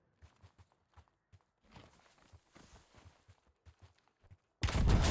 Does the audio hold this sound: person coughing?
no